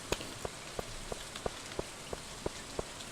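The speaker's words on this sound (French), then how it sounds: "C'est tranquille, tu sais, il pleut," Gentle rain in the Stardew Valley video game falls as a soft, steady patter, with small evenly spaced drip sounds repeating about three times a second, quiet and alone.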